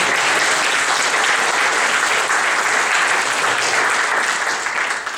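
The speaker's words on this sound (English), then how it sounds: "Yes, applause, please." An audience at an art symposium breaks into sustained, dense clapping that stays loud and even throughout and eases off slightly in the final moment.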